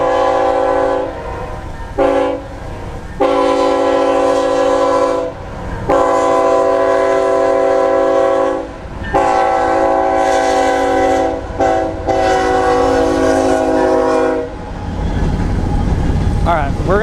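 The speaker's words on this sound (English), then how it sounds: "let this train get through here real quick because we're right at a crossing" A loud train horn blares in long repeated blasts over the rumble of a train passing through a railroad crossing, with a voice briefly audible beneath.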